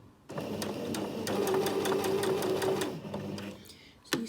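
A sewing machine runs steadily while running a row of ease stitching on a flat sleeve, a fast mechanical hum with rhythmic needle ticks, close up, slowing and stopping near the end.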